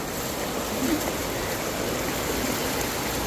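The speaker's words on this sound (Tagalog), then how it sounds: "So itong ilog na to, diretso to sa Hulugan Falls." A river rushes steadily toward Hulugan Falls, a dense, loud and unbroken roar of flowing water close by, with no voices over it.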